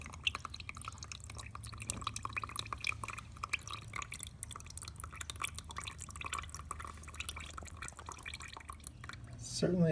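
Liquid, not coolant, dripping from the oil filter housing of a waterlogged, rusted Yanmar boat engine, faint scattered drips under quiet speech.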